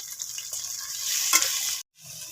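Onion, peas and crushed ginger-garlic paste frying in oil, a bright, close sizzle with scraping stirs, a sharp spoon knock near the end, then a brief cut to silence before the sizzle resumes.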